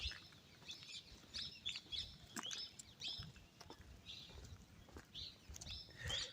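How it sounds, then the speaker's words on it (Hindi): Birds chirp and tweet in short, bright bursts in a forest by the Narmada river near Badwa, scattered calls over a quiet, low rustling background with no talking. "सिर्फ पंछियों की चहचहाट, जंगल का खुशबू"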